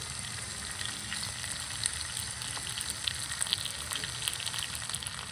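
Sliced onions and grated ginger fry in a hot pan, giving a steady, dense sizzle with crackling pops throughout, close and continuous with no talking.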